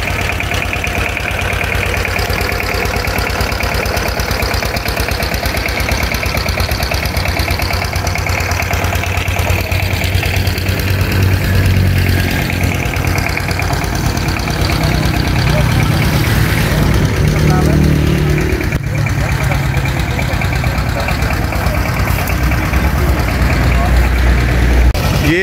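A Petter engine drives a sugarcane juice crusher, chugging loudly and steadily close by for the whole stretch, its heavy low throb rising slightly midway while voices talk faintly underneath.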